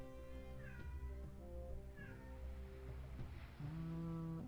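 Pet cat meowing indoors to be let outside, several drawn-out plaintive meows close by over a low background hum, no talking.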